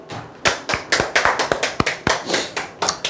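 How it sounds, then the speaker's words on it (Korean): A small audience claps along at a Korean sales-coaching seminar, giving a short burst of sharp, irregular hand claps that carry on steadily for about three seconds, with no talking over them. "박수 한번 칩시다"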